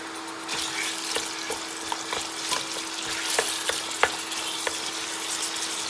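Meat with bones hits hot olive oil in a pot, giving a steady close sizzle dotted with sharp crackles and spits, plus a faint steady hum underneath.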